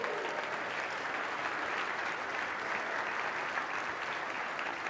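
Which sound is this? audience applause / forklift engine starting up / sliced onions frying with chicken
audience applause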